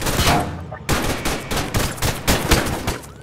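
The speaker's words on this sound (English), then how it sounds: "there's multiple shots fired" Gunfire in the Roblox game Maple County, a rapid series of sharp shots in irregular bursts, fairly close and loud, with no talking over them.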